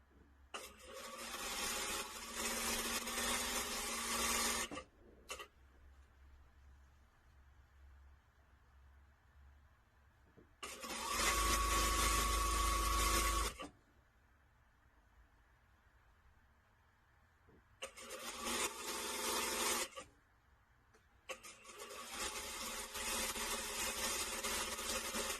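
A sewing machine stitches a drapery cardigan seam in bursts of steady motor whirring separated by pauses, close and fairly loud, with no talking.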